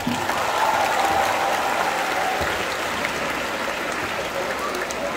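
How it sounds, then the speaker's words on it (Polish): A concert audience in the Opole amphitheatre applauds loudly and steadily, a dense wash of clapping that holds the same level for the whole stretch, with faint voices mixed into the crowd. "W ogóle zróbcie brawa dla tej dziewczyny."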